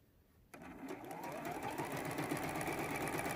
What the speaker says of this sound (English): Sewing these two blocks together.